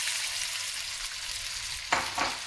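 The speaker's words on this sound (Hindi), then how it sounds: "ये देखिए चिकन हमारी फ्राई हो रही है अच्छे से" Chicken pieces sizzle and fry in hot oil with ginger and garlic for a chicken chow mein, a steady close crackle broken near the end by two sharp stirring scrapes.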